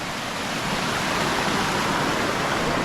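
Water pours under the rocks of a stream in a dense, unbroken rush, close and loud from start to finish.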